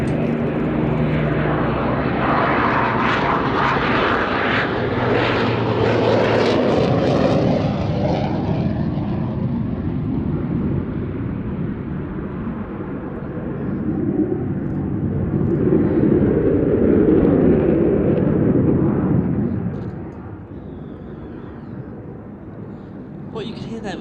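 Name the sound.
Avro Lancaster engines overtaken by Eurofighter Typhoon jet roar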